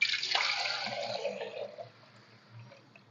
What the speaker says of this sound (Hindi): ये इसके ऊपर से सारा पानी इस तरह निकाल लेना।